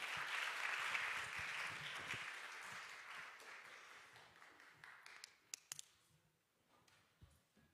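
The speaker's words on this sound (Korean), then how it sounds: "우리 보내주신 하나님께 영광의 박수 올려드립시다" Applause from a congregation at a church youth worship service, strong at first and then thinning out over several seconds, ending in a few scattered late claps and quiet room noise.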